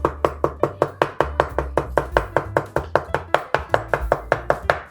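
A knife chops ginger on a board in steady, rapid strokes, about twenty crisp, evenly spaced thwacks in a few seconds. The chopping is close and clear with no talking over it.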